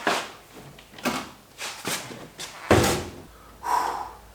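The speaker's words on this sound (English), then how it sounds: "Now it is time to try to put this door on and see what happens." A heavy car door being handled and fitted onto a fire-damaged car, several separate thuds and clunks of metal knocking into place, with a final firm slam near the end.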